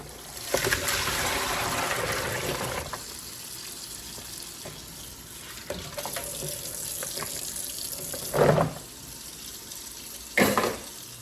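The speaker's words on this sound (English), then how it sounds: "this is where we're going to wash these green beans" Running tap water pours into a bowl as green beans are rinsed, a steady broadband wash with splashy swells and a couple of short louder gushes near the end, close and with no talking.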